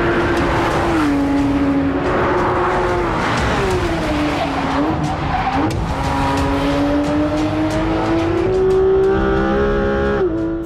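A 2016 Porsche 911 GT3 RS with a 500-horsepower engine is driven hard, its loud, close engine note rising and falling through the revs, with a sharp, sustained tone that climbs steadily near the end.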